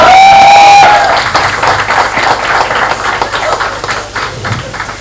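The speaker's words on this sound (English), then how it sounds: "Please welcome all our panelists with a huge round of applause." Loud applause from an audience welcoming panelists at a book launch event in Mumbai, dense clapping that starts right after a brief amplified voice and continues, gradually thinning and softening.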